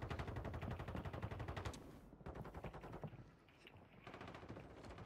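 Rapid akimbo Glock 45 pistol fire from Warzone crackles in fast continuous bursts, loud and dense, with brief pauses between strings of shots.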